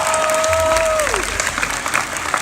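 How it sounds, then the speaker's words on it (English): Audience applause and crowd noise fill a Comic-Con panel room, loud, close and sustained throughout, with a brief whistle-like tone gliding downward early on. "Give Ed a big round of applause."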